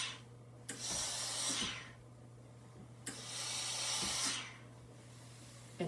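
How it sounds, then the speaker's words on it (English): A clothes iron gives two long bursts of steam while fabric strips are pressed for sewing, each hiss about a second long, close and loud, with a quiet pause between. "I like to use a shot of steam."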